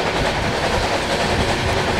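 Kanchankanya Express rolling along rails through hilly country, a steady loud rumble with continuous clickety-clack of carriage wheels throughout, no voices.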